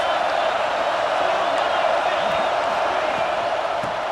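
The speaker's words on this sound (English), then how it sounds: "This crowd trying to make life miserable for this offense." Stadium crowd noise from the video game EA Sports College Football 26, a steady dense roar filling the background under a commentator's voice.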